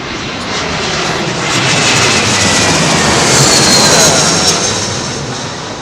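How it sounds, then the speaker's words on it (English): A Boeing 787 Dreamliner airliner roars past at windy Heathrow Airport, its loud, continuous jet-engine rumble swelling to a peak and then easing slightly. "Dreamliner after this, is it? Is it a Dreamliner?"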